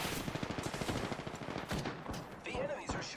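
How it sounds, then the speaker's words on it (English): Rapid bursts of automatic enemy gunfire in the video game Apex Legends, a dense crackling stream of shots close and loud, with a player's voice briefly heard over it. "The enemies are shooting at me."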